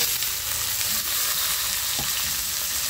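Chopped onion frying in hot oil with bay leaves and salt, a loud, dense, continuous sizzle and crackle close up, with a faint stirring scrape, no talking.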